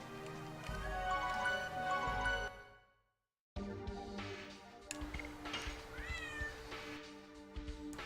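A cat meows repeatedly over a busy, loud game soundtrack, the music and cries pausing briefly midway before resuming with more rising meow calls.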